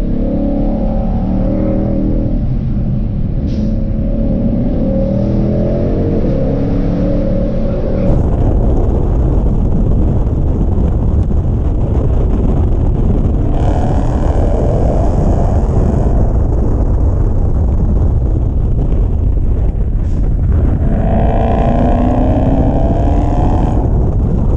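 A 2020 Shelby GT500 driven hard on a winding mountain road: a loud, continuous engine roar that changes pitch sharply a few times as it downshifts and revs, with wind and road noise throughout.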